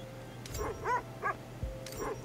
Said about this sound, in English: Let's feed the doggos.